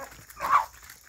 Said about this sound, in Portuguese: Ali na frente tá os três cachorrinhos,